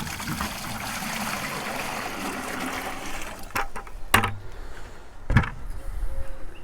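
Water runs steadily into a bucket water filter, a close, even trickle and gurgle that goes on for several seconds, followed by a few sharp clunks of handling and quieter flowing.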